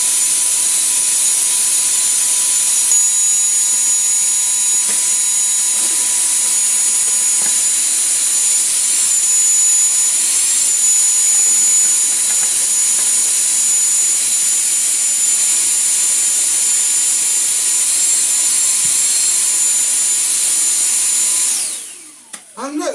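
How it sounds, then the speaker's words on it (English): A toy Numatic vacuum cleaner runs with a steady, loud high-pitched motor whine and airflow hiss that holds for over twenty seconds, then winds down abruptly at the end. "do some vacuuming"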